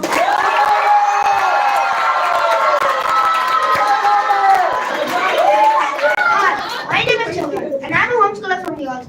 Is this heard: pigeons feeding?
no